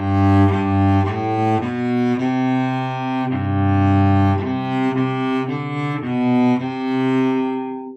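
A solo violin plays a slow, sustained melody, each bowed note ringing clearly and close, with no talking.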